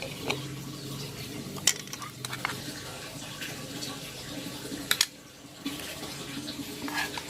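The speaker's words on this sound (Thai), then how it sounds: "นำไข่ที่เราปรุงไว้นะคะ ลงขวดเลย พร้อมกับเปลือกไข่ค่ะ" A prepared egg mixture, shells included, is poured into a bottle for homemade orchid fertilizer: a steady wet pouring and splashing with a few sharp clinks of shell, close and fairly quiet, with a brief lull near the end.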